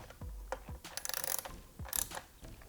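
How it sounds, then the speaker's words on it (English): A 10mm socket ratchet tightens dome nuts on a 2019+ Honda Monkey tail light, with two short bursts of rapid close clicking between softer handling knocks. "Go ahead and take our 10mm socket again."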